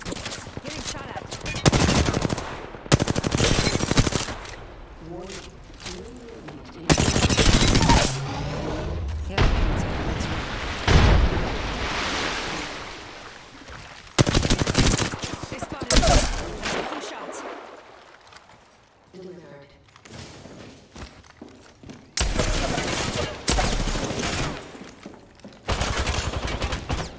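Rapid bursts of video-game gunfire in an Apex Legends-style shooter with R-301 rifles, the player under fire from several weapons; loud, repeated volleys and sharp shots broken by short lulls, with a voice talking in between.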